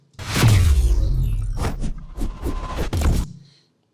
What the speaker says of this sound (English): We also have an actual riser playing underneath that.